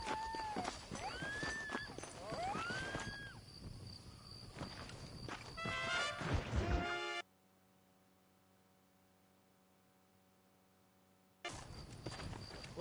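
Horse hooves in the video game Red Dead Redemption: rhythmic clip-clop of a walking horse under music and whistling birdlike tones, breaking off into near silence for several seconds before resuming abruptly.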